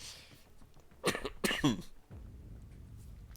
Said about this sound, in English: It just comes out as coughs.